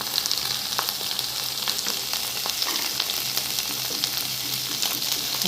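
Onions and colored peppers fry in oil in a pan for shakshuka, giving a continuous close sizzle with small crackles and pops and no voices.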